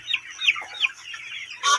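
Farm chickens being fed cut mango pieces give several short, close clucks in quick succession, ending in a louder, sharper call, with no talking.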